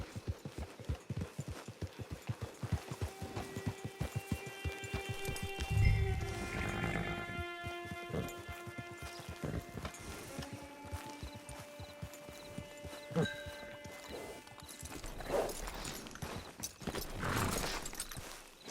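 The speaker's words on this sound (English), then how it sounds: "It's your horse." Horse hooves clip-clop in a steady, quiet walking rhythm in Red Dead Redemption 2, with soft mechanical game sounds and faint tonal background layers under the hoofbeats.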